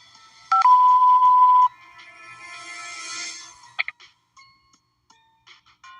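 A phone keypad tone sounds once to accept a collect call. It is a single clear beep lasting about a second, followed by faint scattered beeps and clicks.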